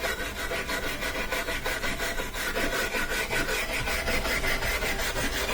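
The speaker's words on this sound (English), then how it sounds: "This is the old front bearing. You could also use a wire brush." A wire brush scrubs the old front bearing of a Frigidaire Gallery dryer, a continuous harsh close-up rasping of rapid back-and-forth strokes with no speech.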